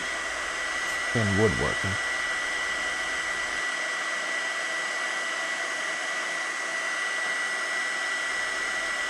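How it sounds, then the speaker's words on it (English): A heat gun blows steadily on a spalted ash wood slab, a loud continuous airy roar that runs throughout, with a short spoken phrase near the start. "comes off very easily with the heat gun"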